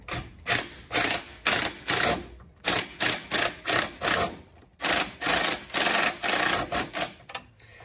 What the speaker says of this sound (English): tighten it down with a 7 millimeter socket